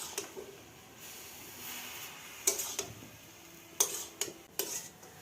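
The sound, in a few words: stirring susni shak leaves with ginger and garlic in pan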